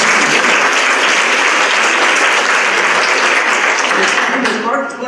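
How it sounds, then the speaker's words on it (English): Dense applause from an audience at an evening art conversation in Maine fills the room loudly and steadily, then tapers off at the end. "Round of applause, please."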